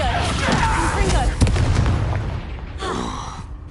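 A Confringo explosive spell bursts in Hogwarts Legacy, a loud crackling blast with a sharp hit near the middle, fiery fizzing after it and a second burst near the end, all over continuous game noise.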